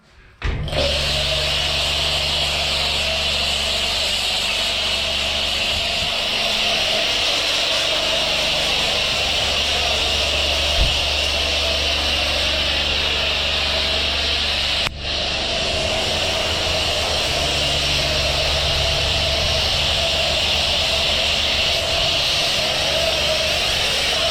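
A Voskhod 3M Sport motorcycle engine runs steadily at idle, a continuous droning hum with a buzzy exhaust note and a low thrum, heard nearby and alone with a brief dip midway.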